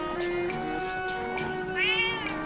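A cat meows in the video game The Legend of Zelda: Echoes of Wisdom, a rising, drawn-out call over soft background music with light tapping sounds.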